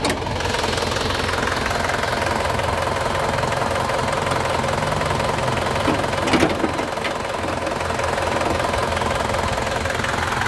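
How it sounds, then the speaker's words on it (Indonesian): A 2006 Isuzu Panther 2.5 LS with a manual gearbox idles smoothly, giving a steady, even engine hum that runs unbroken and close by with no voices over it. "Nih suara ini, mesinnya nyala"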